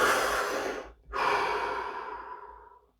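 A single deep breath, a long audible inhale followed after a brief pause by a slow, steady exhale that fades out, close and alone with no talking.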